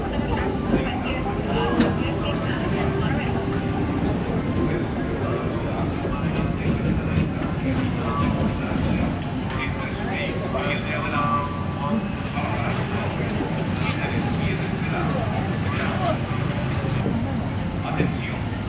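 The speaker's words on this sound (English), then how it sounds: "we do ask everyone to remain seated until the train stops" The Disneyland Railroad train rolls into a station with a steady rumble and faint rail clatter, while a voice speaks over it throughout.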